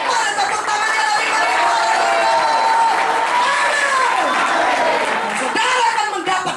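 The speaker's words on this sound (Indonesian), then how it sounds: "Mana tepuk tangannya lagi" A church congregation at a KKR revival service in Yogyakarta applauds and cheers in a steady, dense wash of clapping that lasts throughout, with voices and tonal calls rising above it.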